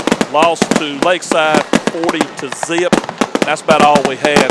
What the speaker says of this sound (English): So you can hear the fireworks going off.